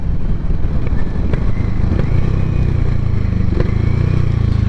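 A Harley-Davidson X440 motorcycle engine runs steadily while the bike rides slowly through a tight turn, a loud, continuous low rumble with a faint mechanical clatter throughout.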